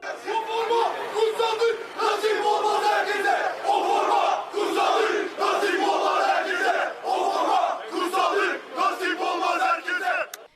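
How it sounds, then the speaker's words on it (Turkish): Beşiktaş football supporters gathered at an airport exit chant in loud, rhythmic unison, voices rising in repeated phrases with short gaps between them and crowd chatter underneath. "Havalimanı çıkışında toplanan taraftarlar yaptıkları tezahüratlarla siyah beyazlı yönetim, teknik ekip ve futbolculara tepki gösterdi."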